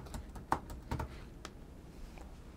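A computer keyboard is typed on in a few quiet, scattered clicks, soft and close, in an otherwise hushed room with no talking.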